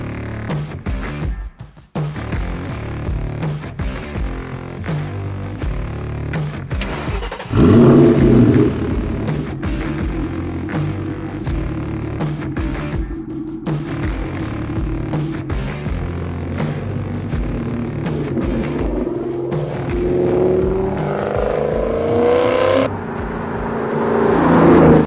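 A Terminator Cobra car engine cranks and catches with a loud burst, then settles into a steady, close running drone that swells into higher revs near the end, with no talking.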